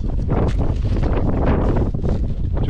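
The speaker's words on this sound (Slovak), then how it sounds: "Tu fúka práve, tu fúka." Strong wind blasts steadily across the microphone during a winter climb of Satan peak (2422 m) in the mountains, a loud, continuous roar with no talking.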